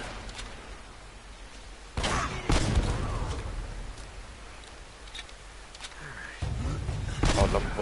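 An M79 grenade launcher fires in Uncharted: Drake's Fortune, with a few loud, close thumping blasts followed by rumbling bursts over a steady game backdrop.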